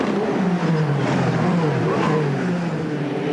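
Indy Lights race cars accelerate on the 1995 Toronto street circuit by Lakeshore Avenue, engines droning loud and steady with pitch rising and falling as several cars pull away together.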